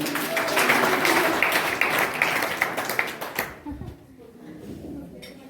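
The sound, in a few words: applause welcoming a student speaker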